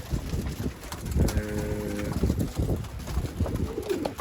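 Pigeons coo softly amid a busy outdoor backdrop with scattered thumps and rustling, while a low lowing-like call sounds briefly in the middle.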